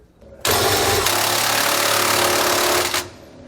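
A pneumatic impact gun hammers on bolts of a rear anti-sway bar being installed under a 2017 Fleetwood motorhome, one loud continuous rattling burst of about two and a half seconds, close up and with no talk.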